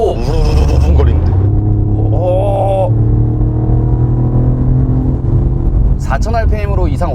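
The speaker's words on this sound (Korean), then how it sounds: "엔진음은 M435i보다 좋은 것 같은데요" A Mercedes-Benz CLE coupe engine in sport mode gives a deep, steady rumble that runs through the whole stretch while someone talks over it at intervals.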